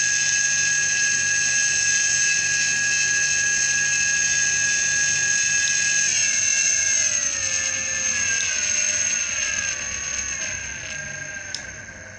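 A Siemens AC servo motor on an encoder test run whines steadily at high RPM, a loud bright tonal hum that shifts pitch midway and slowly glides downward as the motor winds down near the end.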